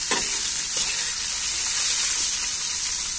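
Eggplant pieces lightly frying in a pan, a loud, steady close-up sizzle and hiss with a few faint stirring scrapes near the start.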